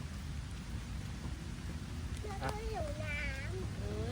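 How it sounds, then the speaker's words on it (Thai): Steady heavy rain hisses throughout a holiday outing in Thailand, with a low rumble that may be thunder; voices rise over the downpour toward the end. "ฝนตกละ"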